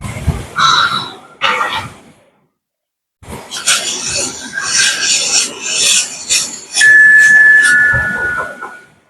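A bell in a horror video game rings like a primary school bell, a loud, steady electric tone holding for about two seconds near the end, after scraping, rustling noises and a short silence.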